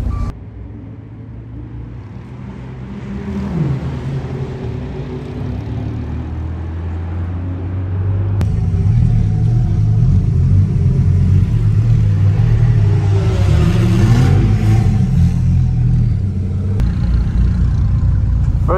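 Supercar engines including a Dodge Viper ACR on the Red Bull Ring racetrack in cold conditions, a steady low rumble that swells and revs louder partway through, continuous and fairly close without talk.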